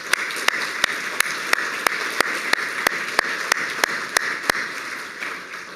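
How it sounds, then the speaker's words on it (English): A crowd at a school alumni and community event applauds in a continuous, fairly even patter, with one nearby pair of hands clapping sharply and rhythmically on top. "Let's give them a round of applause, please."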